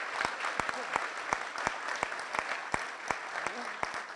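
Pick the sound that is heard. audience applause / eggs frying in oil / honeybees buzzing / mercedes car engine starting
audience applause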